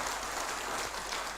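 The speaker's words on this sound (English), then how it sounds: "I just would like to seek a warm round of applause from each" Warm applause from the audience at the Manipur Global Buyers and Sellers Summit 2025: a short, continuous wash of clapping from a crowd, even in level throughout.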